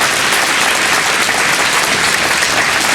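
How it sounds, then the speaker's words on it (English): Sustained applause from an awards gala audience honoring the nominees for the Westminster Chamber of Commerce 2025 awards, a dense, steady wash of clapping at full level throughout. "Let's get another round of applause for each of our nominees tonight."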